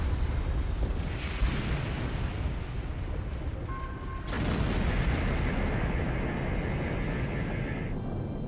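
A plasma turret fires in a Star Trek starship video game, making a continuous heavy roaring blast with a brief tonal beep partway through and a renewed surge of rushing energy that holds to the end.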